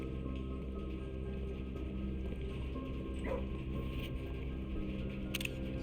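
A beagle in the Blue Prince video game giving a short whimper and a faint yip over a steady humming game soundtrack, with soft clicks near the end.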